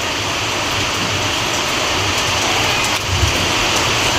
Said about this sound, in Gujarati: જો વરસાદ કેવો પડે